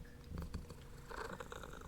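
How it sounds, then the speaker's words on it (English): A cat purrs very close to a microphone, a soft, low, rhythmic rumble running throughout, faint and alone with no talk. "he started purring"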